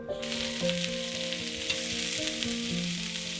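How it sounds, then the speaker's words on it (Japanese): Ingredients stir-fry in a thinly oiled pan with a steady, close sizzle throughout and occasional scrapes of stirring, with no voices. "油を薄くひいてまとめて炒めます。"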